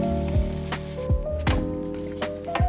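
Scallion pancake frying in a pan gives a loud, constant sizzle, punctuated by a few sharp spatula knocks and presses, close up with no voices.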